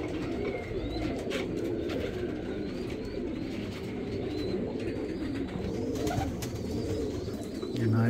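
A Teddy pigeon coos softly and repeatedly at close range, low throaty calls over a faint background of other birds and light room noise.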